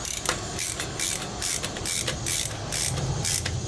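Hand ratchet snugging bolts on a 1985 Yamaha Virago XV700 motorcycle during an oil and filter change, giving repeated close clicking strokes in a quick, steady rhythm.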